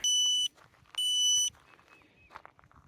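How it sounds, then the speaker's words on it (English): A Pawious GPS dog collar sounds its distance alert outdoors: two loud, steady half-second electronic beeps separated by a short gap, followed by faint background rustle and footsteps. "That was the beep."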